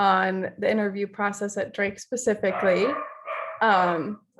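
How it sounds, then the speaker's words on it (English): Dogs bark and yip in the background of a home, brief sharp bursts mixed among steady talking by a woman close to the microphone. "sorry if you can hear my dogs barking."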